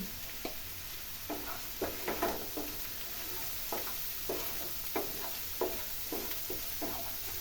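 Spice paste sizzles in a pan while being stir-fried for rohu fish curry; a soft steady hiss sits under irregular scraping and tapping strokes of a spoon, close by and with no talking.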